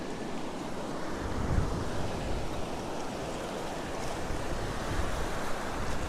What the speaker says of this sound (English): There's some nice little waves rolling over those rocks.